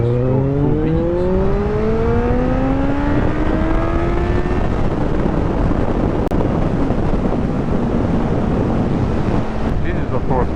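A Kawasaki Z800 motorcycle accelerates at full throttle, its engine note climbing through the gears under heavy, constant wind roar across the microphone.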